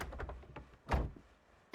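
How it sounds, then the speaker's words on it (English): A few knocks on a door, light taps at first and then one heavier thump, close by and with no talking. "who's knocking before afternoon tea?"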